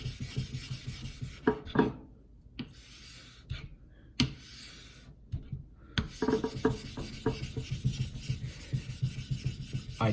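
A diamond plate is rubbed across a Jasper honing stone to raise a slurry, giving close, quiet gritty rasping strokes in an uneven back-and-forth rhythm with brief pauses.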